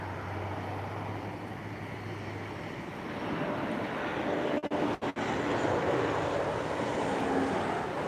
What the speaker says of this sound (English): We have a landing coming through.